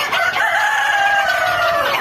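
Guinea fowl calling on a poultry farm, a loud, close, sustained harsh cry that fills the whole moment, with no talking.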